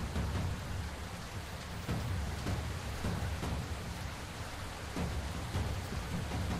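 Heavy rain pours steadily in a video game, a dense, loud, unbroken downpour with low rumbling beneath and faint rhythmic thumps, with no talking over it.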